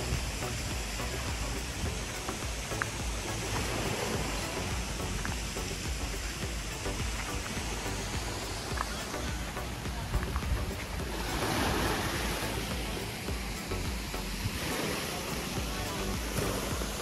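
Steady sea waves washing in at a beach resort in Batangas, Philippines, a constant rushing surf with wind buffeting the microphone and a louder surge partway through.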